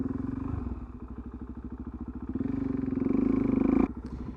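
A motorcycle engine idles with a steady low throb, the revs gradually rising and falling as it pulls away slowly, then cutting sharply near the end.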